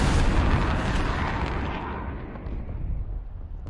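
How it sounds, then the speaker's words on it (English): A missile strike explodes in a Black Ops 7 match, a loud, dense blast that hits at once and rolls into a long rumbling decay with no voices over it. "Here comes the missile from Crime."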